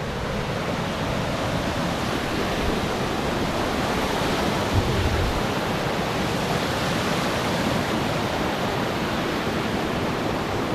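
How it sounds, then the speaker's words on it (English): River water rushes at a trail river crossing on the Crimson Trail, a loud, continuous broadband roar of flowing water that holds steady throughout, with nothing else standing out. "Got a nice river cross."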